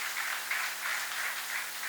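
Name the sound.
audience applause at an awards ceremony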